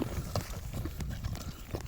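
Hooves of a ridden horse clop in an uneven, fairly quiet rhythm of several close hoofbeats, with faint background noise.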